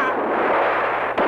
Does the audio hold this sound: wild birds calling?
no